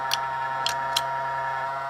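Ball bearings clicking inside a running cutaway Briggs engine, three sharp light ticks at uneven intervals over a steady low engine hum.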